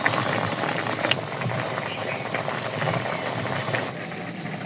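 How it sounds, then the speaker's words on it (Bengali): Potatoes boiling in a pot on a stove, a steady close bubbling hiss with faint rattling that runs without a break and drops a little in level near the end. "আলু সেদ্ধ দিয়েছি।"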